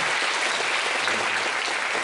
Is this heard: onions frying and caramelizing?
no